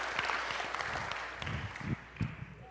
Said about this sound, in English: they deserve a round of applause for what they did